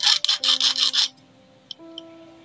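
A metal file rasping across the worn feed dog teeth of an overlock sewing machine, five quick rhythmic strokes close up, then a sustained hum and a few faint metallic ticks.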